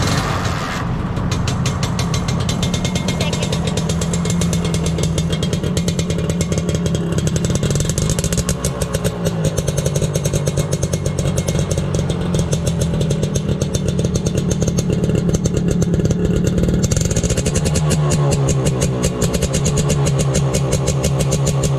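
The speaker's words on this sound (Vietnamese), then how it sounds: "Bây giờ mình sẽ test tiếng bô cho anh em nghe thử nha." A small kick-started motorcycle with an aftermarket exhaust idles close by with a crisp, rapid popping beat, rising in brief revs about halfway through and again near the end before settling back to a steady idle.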